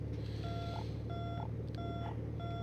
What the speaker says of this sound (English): landing gear alarm is identified